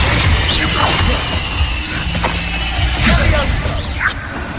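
A fire spell cast in the video game Hogwarts Legacy, a loud whooshing burst with crackling impacts amid other combat effects, while a voice shouts in the middle of the fight.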